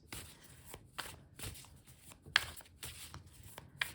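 Close, steady shuffling of tarot cards with repeated soft riffles and slaps, a couple of sharper clicks standing out, no talking.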